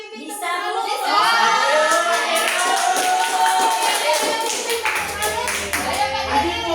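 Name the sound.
group clapping "tepuk salut" clap chant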